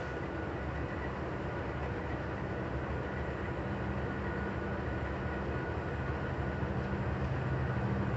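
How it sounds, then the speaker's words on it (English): Union Pacific locomotives lead a southbound Stockton local freight train, a steady, dense rumble and rolling roar that holds at a constant level throughout. "Southbound UP Stockton Churn Loco."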